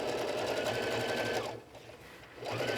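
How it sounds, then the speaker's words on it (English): Sewing machine top stitching a seam on a fish-shaped fabric bag, a steady rapid motor whir with needle chatter that briefly slows and quiets midway before running again, close and alone. "I'm top stitching about 1/8 of an inch away from the seam here"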